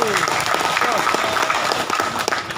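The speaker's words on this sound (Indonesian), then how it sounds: "Tepuk tangan dulu" Applause from a crowd at an Indonesian campaign rally for a Mamuju Tengah regent candidate, steady dense clapping across the whole stretch with voices mixed in underneath.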